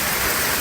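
Heavy Hurricane Milton rain pouring down in Parrish, Florida, with water running along a street gutter, heard as a dense, steady hiss with no break.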